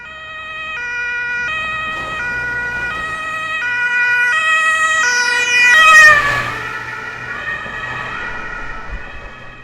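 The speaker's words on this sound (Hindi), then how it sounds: "चारों तरफ एम्बुलेंस का आवाज सुनाई दिया।" Ambulance sirens wail continuously, alternating two-tone patterns overlapping and then sweeping in pitch, loud and near with distant traffic rumble beneath.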